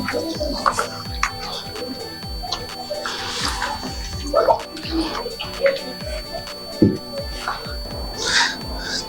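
Water poured in small amounts into cow dung, giving close splashy trickles and drips with squelchy wet mixing sounds in an irregular rhythm.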